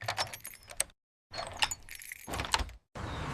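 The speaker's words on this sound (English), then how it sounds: "I lock the door." Front door being locked: keys jangle and a lock clicks in several short bursts separated by brief silences, close and fairly quiet, with no talking.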